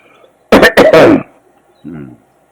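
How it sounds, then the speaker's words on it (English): A person gives a harsh, close cough burst of three quick hacks, followed by a softer throat-clearing grunt after a short pause. "Excuse me for all the coughing."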